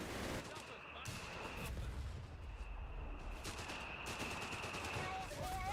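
Company of Heroes 3 battle with gunfire and artillery impacts, heard as a dense, steady wash of distant shots and booms under a continuous high tone, with no clear speech.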